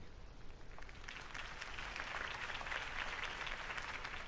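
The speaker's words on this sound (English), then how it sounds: "could have heard that applause" Steady crowd applause follows a mayoral campaign speech in a Gotham-style city, a dense wash of many hands clapping that swells slightly and holds at a constant, fairly loud level throughout.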